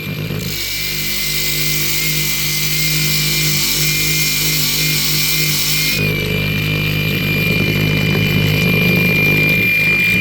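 A loud, continuous angle grinder whine with a steady high-pitched tone and rough grinding texture, running throughout without pause.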